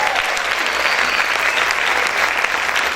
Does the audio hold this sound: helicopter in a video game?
no